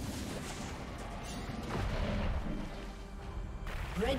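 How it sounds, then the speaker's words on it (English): A turret being destroyed in the League of Legends video game: a dense rumble of booming, gunfire-like crashes that swells midway and again at the end, layered over constant battle noise. "Red team's turret has been destroyed."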